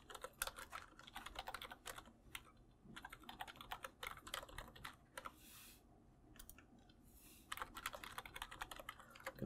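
Credentials are typed on a computer keyboard in quick, close bursts of light key clicks, separated by short pauses, with no speech.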